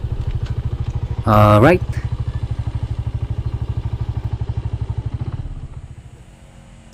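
A parked motorcycle idles nearby with an even, rapid putter, gets a short sharp rev blip early on, then the engine winds down and fades near the end; a voice speaks briefly.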